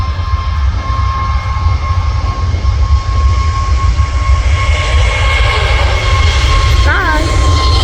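A large passenger jet arrives at Manchester Airport, a steady loud broadband roar holding throughout with a constant whine, building slightly toward the end; a brief voice is heard near the close.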